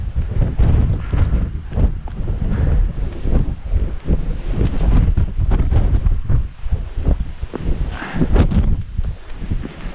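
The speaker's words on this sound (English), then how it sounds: "it's very windy up here" Strong gusting wind buffets the microphone on top of Pew Tor, a granite outcrop on Dartmoor's high moor, a loud continuous roar with heavy low rumble and surging gusts throughout, no voices.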